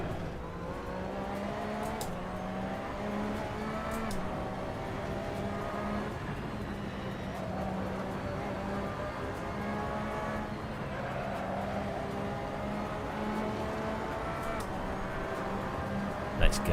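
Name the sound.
race car engine in a racing video game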